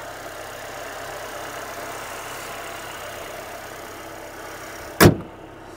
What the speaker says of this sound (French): Donc un petit moteur 4 cylindres,